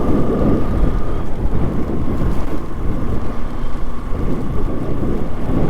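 Heavy rain pours during a motorbike trip on the road from Goa to Kolhapur in Maharashtra, a constant dense roar with low rumbling wind buffeting, loud and unbroken throughout.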